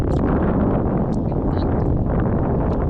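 Loud, constant wind buffets the microphone in a dense roar throughout, with faint scattered higher noises and a possible voice buried beneath.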